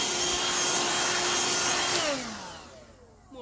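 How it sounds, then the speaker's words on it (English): A robot vacuum cleaner, a Kobot RV353 under repair, runs with a steady loud whir and high whine, then spins down, its pitch sliding lower as the motor fades. "We're non-stop vacuuming."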